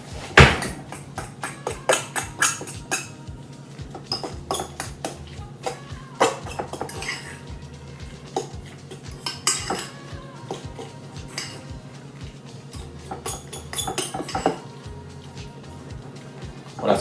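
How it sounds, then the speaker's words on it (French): Tuna and liquid cream mixed in a bowl with a utensil, producing repeated close scraping and clinking strokes against the bowl in an irregular rhythm, with no talking. "Dernier ingrédient, la crème liquide. Vous voyez l'équivalent d'un petit récipient comme ceci. Et on va venir mélanger tout ça."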